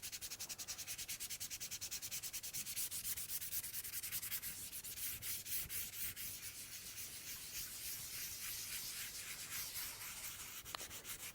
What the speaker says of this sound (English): blending the colours,